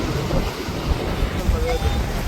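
Strong sea wind at Kanyakumari on the coast, a loud continuous rush buffeting the microphone alongside surf, with voices talking faintly underneath.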